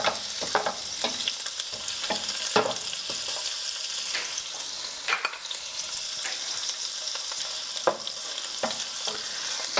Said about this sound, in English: We're going to start with our onion. And let that saute a little bit.